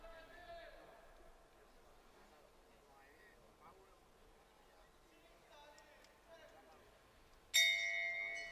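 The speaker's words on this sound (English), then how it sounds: "Bell goes for the start of round one" At an amateur boxing world championship bout, the ring bell strikes once to start round one. It gives a sharp, bright clang that rings on after a stretch of quiet arena murmur.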